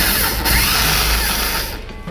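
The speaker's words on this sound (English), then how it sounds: "you want to drill a hole in a piece of metal with the drill bits" Power drill boring a hole in a piece of metal, a loud continuous whirring grind with a rattling mechanical texture that eases off at the end.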